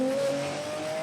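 Onboard a Ferrari race car driven by Emmanuele Pirro in an American Le Mans Series race at Trois-Rivières, the engine drones loud and close in a steady high note, pitch rising slightly as it pulls.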